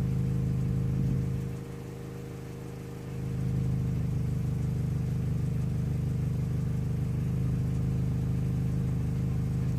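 A Peugeot 208 with ESP and engine warning lights on idles steadily close by, a constant low hum with a brief softer dip in the middle before settling back to its even drone.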